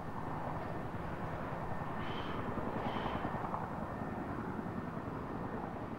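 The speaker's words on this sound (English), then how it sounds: "It's totally a helicopter, but I don't see a helicopter." A helicopter in the video game Farming Simulator 19 gives a steady rotor chop and engine roar that holds at a constant level throughout, with no talk over it.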